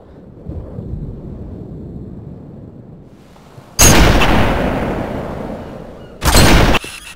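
Two heavy sniper rifle shots in Garry's Mod boom out loud and close, the first near the middle with a long decaying tail, the second shortly after, over a quiet low rumble.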